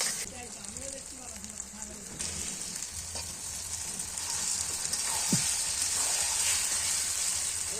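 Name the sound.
food being sautéed and fried in a pan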